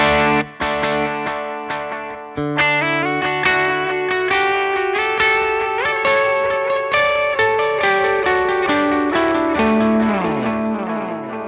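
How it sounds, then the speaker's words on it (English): Electric guitar through a dual delay on a Line 6 Stadium preset plays a busy melodic line, each note repeating in echoes that pile up into a lush, reverberant wash. "here is a dual delay"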